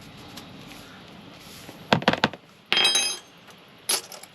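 A spoon stirs salt into a mixture in a small container during a roadside repair of a torn seat cover, giving a few brief clinks and scrapes against a quiet background.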